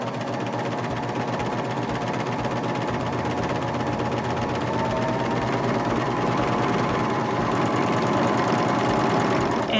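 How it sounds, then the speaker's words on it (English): A Baby Lock Vibrant sewing machine sews a blanket stitch through wool and water-soluble stabilizer, running at a fast, steady pace with a loud, continuous mechanical whirring and rhythmic needle chatter close up. "I'm just going to continue to sew, cutting off both the wool and the stabilizer."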